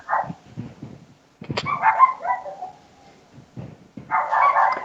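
Puppies barking and yelping in short, high-pitched bursts, some close and clustered, with whimper-like cries between them.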